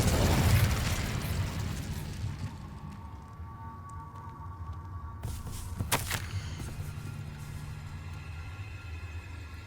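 An Incendio fire spell blast in Hogwarts Legacy: a loud burst of roaring fire at the start that fades into a low rumbling crackle, with a sharp flare-up partway through, no voices.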